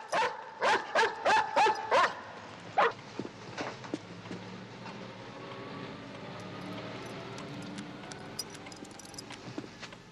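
A Doberman barks five times in a quick, loud run close by, adds one more bark after a short pause, then lets out softer whimpers and yips over quieter background sound in a movie scene.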